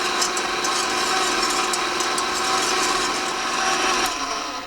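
Electric hand mixer whirring steadily on low speed as it beats egg whites with salt and cream of tartar for meringue cookies, a continuous close motor hum with no talking.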